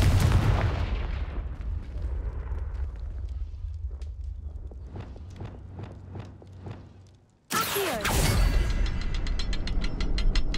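Confringo spell from the video game Hogwarts Legacy: a string of sharp, evenly spaced cracks builds up, then after a brief hush a loud, close explosive burst erupts and rings on, with no talk.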